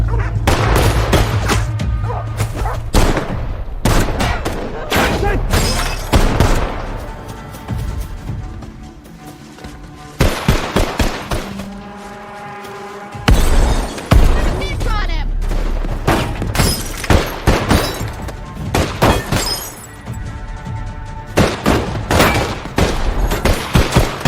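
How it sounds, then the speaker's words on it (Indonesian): Film gunfight with both sides trading shots: dense bursts of rapid gunfire and sharp cracks, some shattering impacts and booms, loud and chaotic, with brief lulls and voices shouting in between. "memaksa kedua belah pihak saling melepaskan tembakan demi tembakan"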